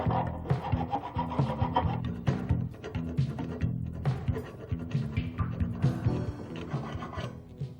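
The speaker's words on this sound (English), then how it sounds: "we're going to take away the excess and smooth out the rest of it" Steady rasping of a file or grinder smoothing excess weld metal on a steel piece, continuous scraping strokes with a rhythmic back-and-forth pulse, close and fairly loud with no talking.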